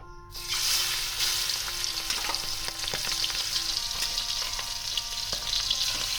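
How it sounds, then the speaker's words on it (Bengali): Prawns dropped into hot mustard oil in a kadai burst into a loud, dense sizzle that holds steady, with scattered crackles and occasional stirring, heard close with no voices. "তেল আমার গরম হয়ে গেছে, এবার চিংড়ি মাছটা দিয়ে দেবো"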